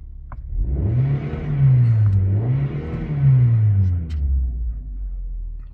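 A petrol car engine with 130,000 km, treated with NanoOil, idles and revs in two smooth swells, a steady mid-pitched rumble rising and falling, close and alone with no talk.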